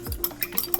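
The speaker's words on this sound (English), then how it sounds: "And whisk." Eggs, butter and vanilla whisked in a bowl, a quick run of rhythmic clinking strokes of the whisk against the bowl, close and brief.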